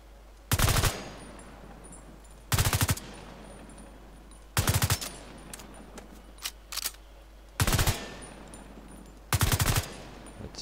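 Gunfire in The Division 2: five evenly spaced short bursts of rapid shots, loud and close, separated by pauses with a few fainter single cracks between, over a low steady hum.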